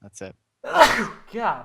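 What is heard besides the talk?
sneeze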